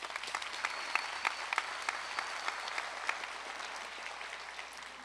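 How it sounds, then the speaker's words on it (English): Graduation ceremony audience applauds steadily, a dense field of many hands with a few sharper individual claps standing out, moderately distant and gently fading toward the end. "Another round of applause, please."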